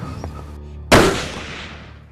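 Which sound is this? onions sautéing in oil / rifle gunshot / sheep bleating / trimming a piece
rifle gunshot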